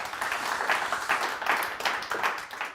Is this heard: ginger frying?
no